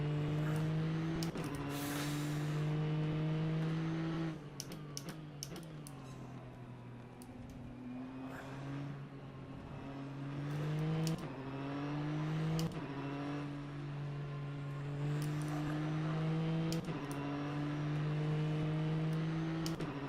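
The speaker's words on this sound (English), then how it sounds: "At least wait until the rest of the cars have gone past" GT3 race cars howl past at Silverstone in rFactor2, with engine tones climbing and falling through gear changes and overlapping as several cars go by close and loud, and no speech.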